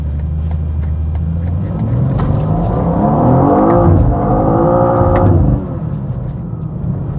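BMW M2 Coupe G87 pulling hard in second gear, heard from inside: a deep idle-like rumble swells into a rising engine note that climbs in pitch for a few seconds, then cuts back abruptly to a lower drone.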